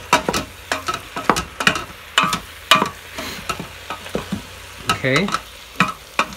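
Chicken curry stirred in a Cosori 6-quart pressure cooker, repeated scraping and clacking strokes of a utensil against the pot in a quick irregular rhythm over a low sizzle, with a brief spoken word near the end.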